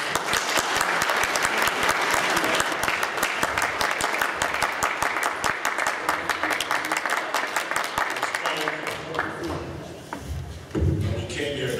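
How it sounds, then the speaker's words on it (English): Warm applause from a large audience honouring Dr. Efrem Miller at Chabad's 35th anniversary award event, loud, dense clapping that continues steadily and fades near the end, with voices and a few thumps at the close. "let's have a warm applause for Dr. Efrem Miller"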